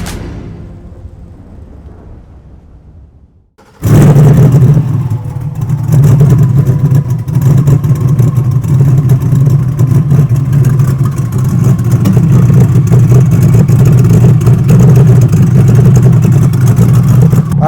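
Twin-turbo 427 cubic inch built LT2 engine in a Chevrolet C8 Corvette E-Ray, over 1,200 hp, roars to life after a quiet lead-in and holds a loud, steady, heavy rumble close up with no talk.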